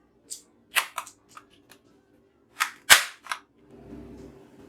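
Toy AK-47 replica fires plastic ball bullets: a series of sharp, snappy cap-gun-like pops, several spaced shots with a louder close burst near the end, followed by a faint rattling clatter.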